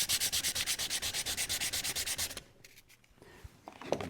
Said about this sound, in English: We're gonna do a little sanding on top.